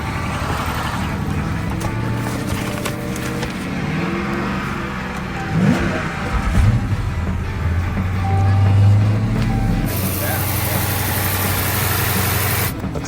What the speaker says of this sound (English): it was near another Charger running that didn't sound very healthy